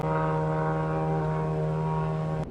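A drone or aircraft passes overhead with a steady, droning engine hum that holds a constant pitch, then cuts off abruptly at the end.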